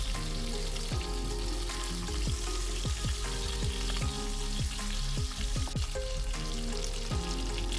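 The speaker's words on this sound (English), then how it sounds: "After about 1 minute, flip the Tangra fish so as to fry the other side as well." Tangra fish frying in oil in a kadhai, a dense, loud, continuous crackling sizzle heard close up, with faint clinks throughout and no speech.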